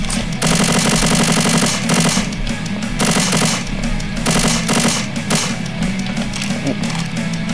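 Rapid gunfire from a gun in the Slendytubbies: Awakening video game, loud repeated bursts of automatic shots with short pauses between volleys, close and dominant throughout.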